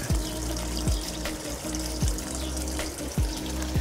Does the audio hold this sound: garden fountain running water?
yes